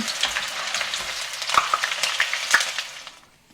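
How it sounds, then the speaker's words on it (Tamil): Small onions frying in a pan for prawn sambal give a steady, close crackling sizzle with a few sharper pops, fading out near the end; no voices. "வெங்காயத்தை பறிப்போம்"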